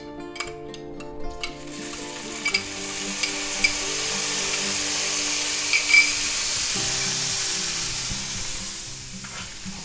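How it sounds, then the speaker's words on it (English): Minced garlic sizzling in oil in a pan on medium heat for a garlic shrimp and vegetable stir fry, a loud continuous frying hiss with several sharp metallic clinks of utensil against pan near the start. "we're going to take our garlic here and we're going to put that in the pan"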